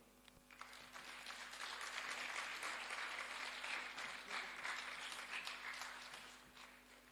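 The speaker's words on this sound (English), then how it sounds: "Another round of applause, ladies and gentlemen." A conference audience at a women's conference session claps in a dense, sustained round of applause that swells and holds steady, heard fairly faintly and from a distance, with no voices over it.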